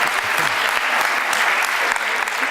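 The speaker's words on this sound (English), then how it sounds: "let's give her a little round of applause" A room of people claps steadily, a brief, dense burst of audience applause at close range with no talk over it.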